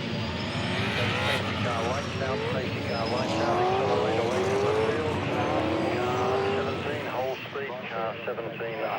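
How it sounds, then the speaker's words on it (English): A V8 Supercars safety car at Winton Raceway in 2011 accelerating away from the race field, a loud engine roar rising in pitch through the gears, with other race cars behind and a commentator talking over it. "Safety car lights out and accelerating away from the field."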